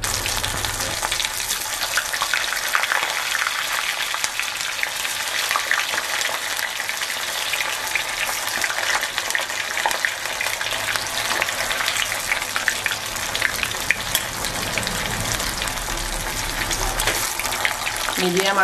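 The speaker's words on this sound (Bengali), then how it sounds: "মিডিয়াম আঁচে ভেজে নেব" Chital fish muitha frying in white oil in a wok, giving a steady, dense sizzle that runs unbroken at an even loudness from start to finish, with no voices over it.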